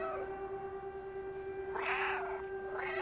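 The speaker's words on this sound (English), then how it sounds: "Maybe if I keep meowing" In the video game Stray, a cat gives two short, bright meows in quick succession, loud and close over a steady droning electronic tone and ambient game sound.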